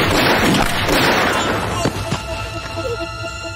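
Gunfire in a kung fu war film, a dense burst of sharp loud shots crackling together at the start, then a few isolated reports fading out with a lingering tail.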